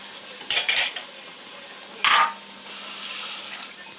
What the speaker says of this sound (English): And I'm going to put a little bit of liquid in.